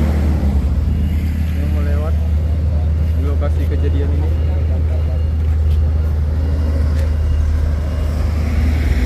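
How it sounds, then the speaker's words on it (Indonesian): A bus rolls past a truck crash site with a steady, loud engine rumble and road noise that holds throughout, while voices talk over it. "Ini juga ada bus yang melewat di lokasi kejadian ini."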